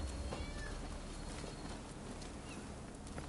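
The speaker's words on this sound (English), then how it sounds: "I can hear him meowing though." Faint cat meows in a video game sound over a dense, noisy background hum, with a rhythmic clopping underneath.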